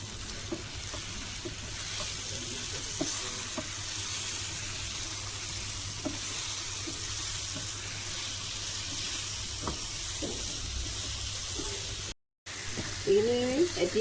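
Cumin, black pepper and dried red chillies fry for a pork dish, a steady broad sizzle running almost unbroken with scattered stirring clicks, cut by a brief gap near the end.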